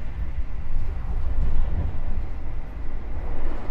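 Logawa passenger train from Purwokerto to Ketapang passing on the adjacent track, heard from aboard another train as a steady low rumble of wheels on rail with no talk.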